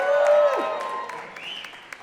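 A crowd at a Chanukah singles event applauds and cheers, with clapping and whoops under a tonal whistle-like sound and a voice, fading gradually over about two seconds.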